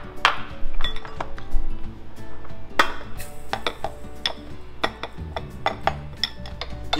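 Butter and brown sugar are creamed together in a bowl, with repeated scraping and sharp clinks of a utensil against the bowl in an uneven rhythm, close and moderately loud.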